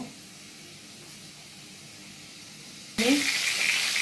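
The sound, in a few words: prawns frying in oil in a pan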